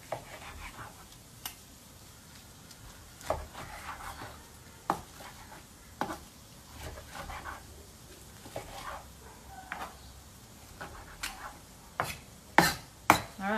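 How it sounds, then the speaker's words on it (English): A knife roughly chops a capsicum (bell pepper) on a cutting board, giving sharp, uneven taps spaced every second or so that quicken into a tighter flurry near the end, close and moderately loud with no talking. "the same with the capsicum. Kind of similar to the zucchini. We'll sort of chop it up"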